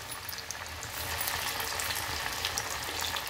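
Vadis frying in very hot oil on a full flame, a dense, continuous crackling sizzle that swells after the first second and holds steady, close and alone without voices.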